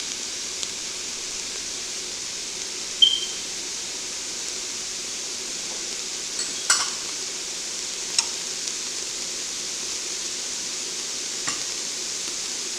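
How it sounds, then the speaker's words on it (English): Jalapeno pepper and other ingredients sauteing in a pot for a spicy seafood soup, a steady soft sizzle with a few light clinks of stirring, close and without talk. "And I'm going to saute these down,"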